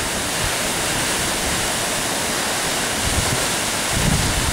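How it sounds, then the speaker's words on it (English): Waterfall at Calf Creek pours in a constant, loud, broadband roar with steady rushing white-noise texture throughout, no voices heard over it. "There's Denise in the waterfalls."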